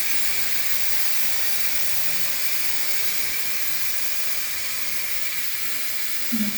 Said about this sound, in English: still slowly releasing the steam